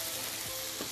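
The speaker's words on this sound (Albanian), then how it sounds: "Në këtë tiganit do të skuqim qepën" Onion frying in oil in a pan, giving a steady, close sizzling hiss over about a second.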